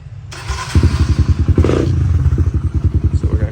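A Kawasaki KLX140 dirt bike engine fitted with a heavy-duty clutch catches after a thump and settles into a close, loud, rapid putter, with a brief rev partway through.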